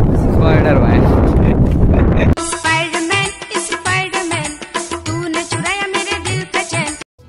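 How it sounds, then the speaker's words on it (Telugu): Strong wind in a dense forest buffets the microphone with a loud, rough roar for about two seconds, then voices take over. "గాలి మాత్రం ఒక విపరీతంగా వస్తుంది"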